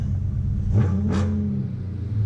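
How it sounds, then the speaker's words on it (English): A 2016 Dodge Charger R/T Scat Pack V8 gives a short, loud rev, rising quickly and falling back over a steady deep rumbling idle, heard close with the windows down. "Put the windows down, this is what she sounds like. Ooh. Okay, give her a little rev."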